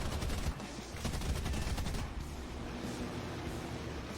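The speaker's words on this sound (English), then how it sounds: "2 20mm Hispano cannons and 2 Browning machine guns can quickly take care of any enemy aircraft" Aircraft in War Thunder firing 20mm Hispano cannons and Browning machine guns, a dense, rapid rattling barrage of continuous automatic fire over a steady roar, loud and unbroken.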